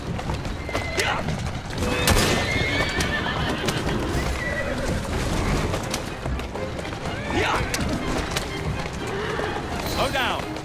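In the video game Assassin's Creed Syndicate, a horse whinnies loudly while hooves clip-clop at a steady gallop, with voices talking over busy action noise.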